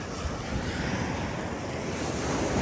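Ocean waves washing onto a Florida beach at Fort Pickens make a continuous, loud rushing surf wash mixed with wind noise on the microphone.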